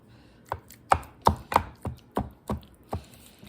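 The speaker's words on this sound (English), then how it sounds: "So I'm just chopping up the tomatoes" A knife chops cherry tomatoes on a cutting board in a home kitchen, eight crisp distinct strikes at a slightly uneven pace, close and clear against a quiet background.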